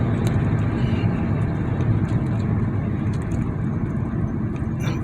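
Steady road roar and engine hum from inside a moving car, a constant dense rumble with faint tire noise throughout and no talking.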